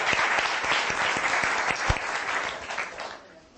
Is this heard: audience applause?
yes